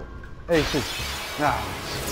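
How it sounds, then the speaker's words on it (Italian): A lightning strike on the Thunder Plains in Final Fantasy X lands as a sudden loud, shattering crack with a rumbling tail, and someone speaks briefly over it. "c'era un lampo ma non è caduto il fumo"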